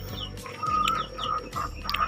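Free-range village chickens in a small backyard coop cluck in short repeated bursts, close and fairly loud.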